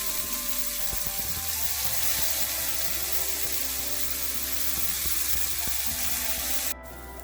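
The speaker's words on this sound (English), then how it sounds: "Now let's turn the fish on the other side and cook it." Fish frying in a hot pan with a steady, close sizzle and hiss running throughout with no talk, easing slightly near the end.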